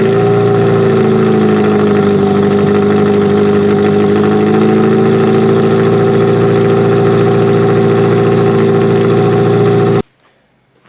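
A small motor started with quick-start spray runs loud and steady at a rough idle for about ten seconds, then cuts out abruptly into near silence.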